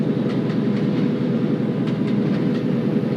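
A long train hauled by a Challenger steam locomotive rolls past, its steady low rumble joined by faint rhythmic clicking of wagon wheels over rail joints, continuous and fairly close.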